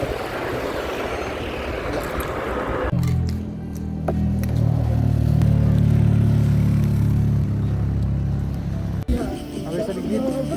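A motorbike sets off from Deurali on the Hetauda to Kathmandu mountain road, its steady low engine drone rising close and loud after an opening stretch of wind and voices, then cutting back to wind near the end.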